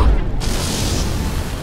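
Heavy weapons fire and an explosion in Mass Effect 2 on Horizon, a loud deep boom followed by a sustained roaring rumble of blasts and noise.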